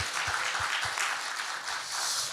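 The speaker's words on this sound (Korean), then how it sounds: "우리의 모든 기도에 응답하신 하나님께 영광의 박수 올려드리겠습니다" Applause from a church congregation after a closing prayer at a Friday night worship service, a steady wash of clapping with low thumps from nearby hands, continuous and moderately loud through the moment.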